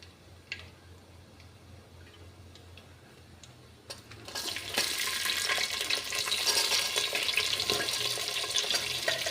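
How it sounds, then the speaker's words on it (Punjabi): Sliced onions drop into hot oil already crackling with cumin, mustard seeds and fenugreek for a pumpkin curry. Sparse ticks and pops come first, then the sizzle jumps up and stays loud and steady. "ਜੀਰਾ ਰਾਈ ਤੇ ਮੇਥੀ ਦਾਣਾ ਥੋੜਾ ਜਿਹਾ ਫਿਰ ਆਪਾਂ ਇਹਦੇ ਵਿੱਚ ਪਾ ਦਾਂਗੇ ਜੀ ਕੱਟੇ ਹੋਏ ਪਿਆਜ਼"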